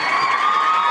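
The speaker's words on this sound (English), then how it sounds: "Another round of applause for your favorite principal, please" A school crowd cheers for the principal in a brief, loud burst of shouting and whooping voices, with the sustained tone of children's voices dominating over any clapping.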